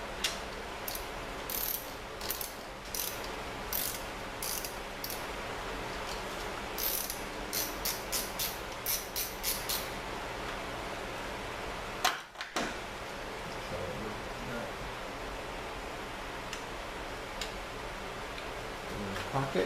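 Ratchet turning a 13/32 socket on a bolt during an A/C compressor install, giving repeated bursts of quick clicking at close range with pauses between strokes and a brief dropout midway.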